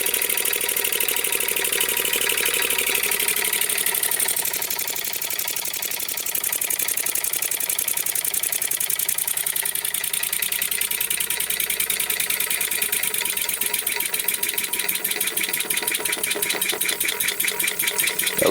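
A four-stroke engine converted to run on compressed air chugs steadily with rapid, even mechanical pulses and a hissing airy wash, close and constant throughout.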